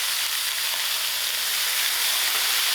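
Lamb chops fry steadily in marinade in a pan, giving a continuous loud sizzle with a bright hiss and no pauses, with nobody talking.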